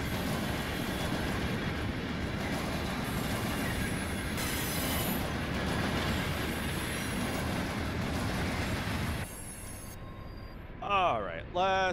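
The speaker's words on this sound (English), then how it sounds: "The locomotive is so easy to move when you know what you're doing." A switcher locomotive in the Run8 train simulator rolls along with steady rumbling wheel noise and faint squeals for about nine seconds, then the sound drops sharply and a voice talks over the quieter tail.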